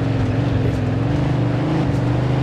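A Samson Drifter car engine in the video game Mafia II Definitive Edition hums steadily at a low, rumbling pitch with a constant drone and slight revving, loud and close, no talking.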